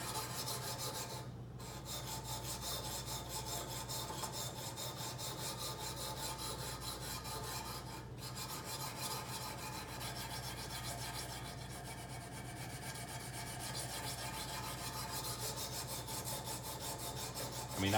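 A knife is sharpened on a coarse stone in a Kazak UBR sharpening system with U-adapter, making faint, continuous rhythmic rasping strokes with no voices.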